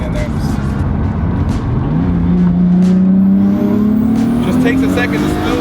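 A Nissan Skyline R32 GTR engine revs up steadily under acceleration, its pitch climbing as the turbo spools, loud and close from inside the car with a voice speaking over it.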